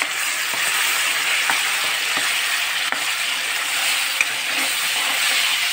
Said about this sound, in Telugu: మంచిగా పండిన టమాటాలు ఒక 3 మిక్సీలో గ్రైండ్ చేసుకొని పేస్ట్ చేసి ఇలా